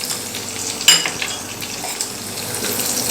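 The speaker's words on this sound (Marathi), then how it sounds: "लसूणसुद्धा आपल्याला छान असा परतून घ्यायचा आहे किंवा तळून घेतला तुम्ही तरी चालेल" Garlic frying in a pan, following green chillies, makes a steady gentle sizzle with a sharp clink of a utensil near the start and light stirring after, close and with no talk.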